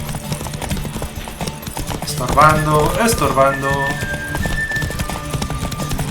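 Rapid clip-clop of a galloping horse in the video game The Witcher 3: Wild Hunt runs throughout, with a whinny in the middle and someone speaking over it.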